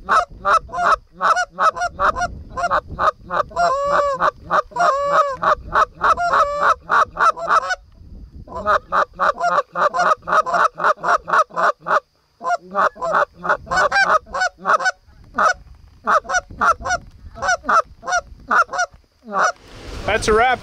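A flock of geese honking loudly and repeatedly close by during a rainy goose hunt, dense overlapping calls with a short lull near the middle.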